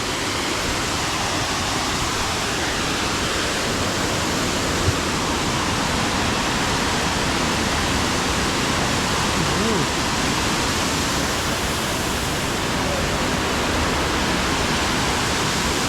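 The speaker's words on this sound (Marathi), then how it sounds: "तर मंडळी हा आहे सावडावचा धबधबा." Savdav waterfall near Kankavli in Sindhudurg, Konkan, roaring as a loud, constant broadband rush of falling water that fills the whole stretch without letup or audible speech.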